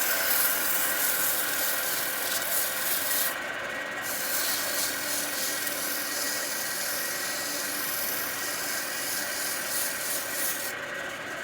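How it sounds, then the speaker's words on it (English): Steady hand sanding rubs back and forth over a small wooden napkin ring, a close, hissing scrape with brief pauses and slight shifts in stroke. "Let's sand it up."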